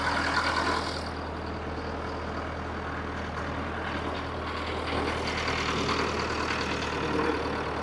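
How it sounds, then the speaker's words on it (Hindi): Diesel truck engine idling at a raised speed during diagnosis of a starting problem, a steady loud low rumble throughout with a brief louder burst at the start. "इसके जो आइडल स्पीड है वो आप लोग देख सकते हो ज़्यादा है, रनिंग ज़्यादा है इंजन की।"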